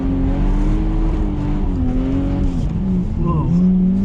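A 150bhp Lexus drifting at the Driftland track, its engine droning loud and close while tires squeal in long, wavering whines, with a person talking over it.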